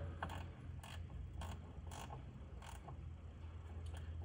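A socket wrench snugging down a small nut during a TUFF 8-button wireless install, giving a series of short, regular ratchet clicks roughly every half second over a steady low hum.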